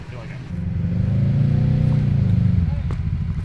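Jeep engine idling low and rumbling steadily as it creeps along an off-road trail at an off-road park, the tone rising a little mid-clip under nearby talk.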